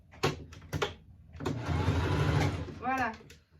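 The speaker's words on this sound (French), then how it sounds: "Là je fais mon point d'arrêt une fois que j'ai fini de tout coudre." Sewing machine backstitching at the end of a seam on a small fabric basket, giving a brief steady mechanical whirr of stitching in the middle, with someone speaking briefly before and after.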